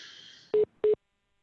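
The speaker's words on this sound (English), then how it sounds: "apologies for the beeping" Two short electronic telephone beeps, evenly spaced and fairly quiet, after a faint fading tone; then silence.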